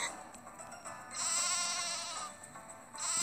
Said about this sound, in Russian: Такие баранчики.